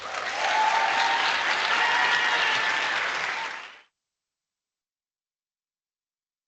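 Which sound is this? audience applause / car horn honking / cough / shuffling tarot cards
audience applause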